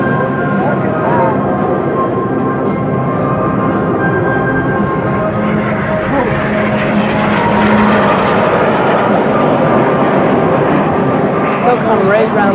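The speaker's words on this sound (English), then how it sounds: "As the 9-plane formation comes in from the right, they will set up for the classic." A nine-plane Snowbirds jet formation of the Canadian Forces sweeps past at an air show. A loud, steady roar builds and fills the whole stretch while people talk over it.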